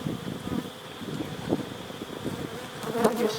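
Honeybees buzz close by in a dense, steady drone at an open hive box, with a few louder passes and brief flutters standing out over a breezy outdoor background.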